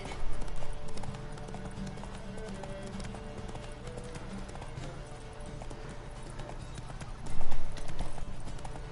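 Horse hooves clip-clop at a steady gallop in the video game The Witcher 3, a continuous rhythmic pounding under game ambience that swells louder briefly near the end.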